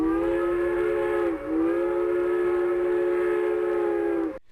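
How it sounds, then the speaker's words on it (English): Steam train whistle from an old silent-era film shot in the Camargue, a loud, sustained multi-tone blast that dips briefly near the start and then holds steady until it cuts off, with a rumbling train beneath. "tied up on the rails in front of a coming train"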